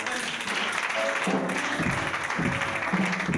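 A church congregation applauds and cheers in praise of Jesus, a broad wash of clapping and voices that swells in waves over the whole stretch at steady, moderately loud level.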